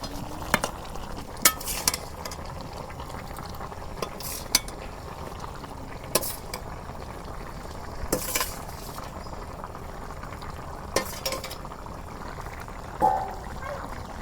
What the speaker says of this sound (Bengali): এই দেখো তরকারির বলক উঠছে, এখন আমি মাছ দিয়ে দেবো।